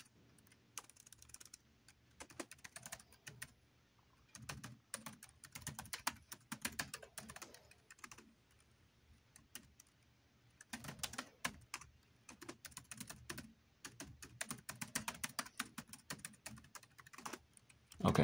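Fingers typing a password on a computer keyboard in bursts of rapid key clicks separated by short pauses, close and fairly quiet, with no talking.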